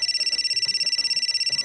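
A phone rings with a steady, high electronic trill made of rapid, even pulses that run continuously through the moment, with faint low room sounds beneath it.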